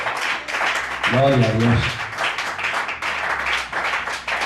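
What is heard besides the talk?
church congregation applauding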